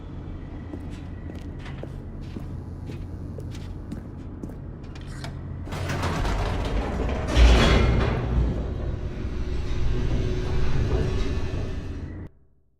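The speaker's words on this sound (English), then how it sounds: "The elevator raced downward, plummeting towards an unknown fate." An elevator in The Stanley Parable starts with a low mechanical hum and faint clicks, then builds into a rushing, rumbling plunge with a heavy thud before cutting off.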